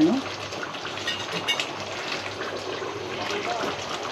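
Water gushes and splashes as it is poured into a pot of simmering Filipino beef afritada. The pour is a steady near wash with a bubbling undertone, while someone talks over it.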